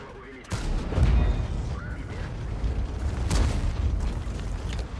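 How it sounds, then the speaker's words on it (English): Airstrike in World of Tanks: a sudden heavy impact followed by rumbling explosions and a second strong boom, loud and low, with talk faintly under the battle noise. "Airstrike."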